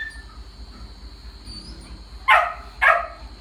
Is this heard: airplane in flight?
no